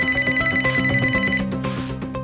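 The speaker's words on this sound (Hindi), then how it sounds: "मैंने तुरंत उसके दोस्त विक्रम को फोन लगाया।" A telephone rings with a bright electronic trill in quick repeated pulses, loud and close, heard alone with no voices.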